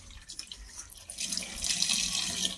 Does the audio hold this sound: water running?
yes